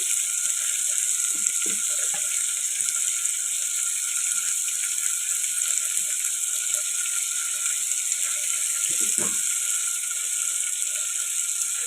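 Salt and turmeric frying in melted butter give a continuous bright sizzle, with scattered scraping and clicking of a spoon stirring the pan in short bursts.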